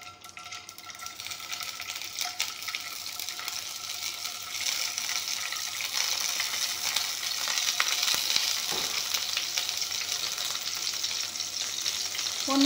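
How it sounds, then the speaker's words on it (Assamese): Eggs fry in refined oil in a kadai with a steady, moderately loud sizzle and crackle that grows slightly more intense partway through, with occasional faint stirring. "প্ৰথমতে কণীখিনি ভাজি ল'ম।"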